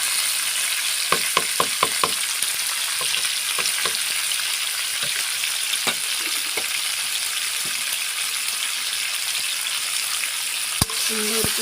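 Chicken meat frying with potatoes in a pan, a steady hiss of sizzling oil with a run of quick stirring clicks early on and scattered scrapes, plus a sharp knock near the end.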